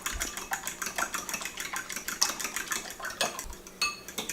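Spoon scraping and clinking in a pot as rice is stirred with a little bouillon, a steady run of close metallic taps and scrapes, no voices.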